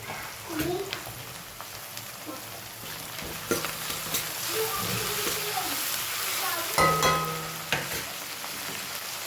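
Onions sauté in a pan with tomatoes added, giving a steady soft sizzle broken by scraping stir strokes and occasional clinks of the spoon against the pan. No speech is heard.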